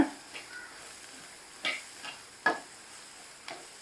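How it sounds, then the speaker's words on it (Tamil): Chopped broad beans frying in a pan while a spatula stirs them, a faint sizzle under a few soft, spaced scraping taps against the metal. "இப்போ நம்ம வெட்டி வச்சிருக்கிற அவரைக்காயை சேர்த்துடலாம் நல்லா மிக்ஸ் பண்ணி விடுங்க"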